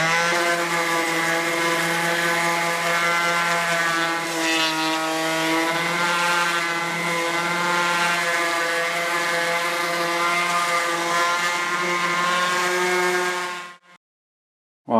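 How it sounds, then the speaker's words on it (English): An orbital sander with 320-grit paper runs over a Mercedes W140 S-Class wheel rim, making a continuous buzzing motor hum with a strong tone that stays close and steady before stopping abruptly. "Now I'm going to go over the rim with 320 on the orbital sander."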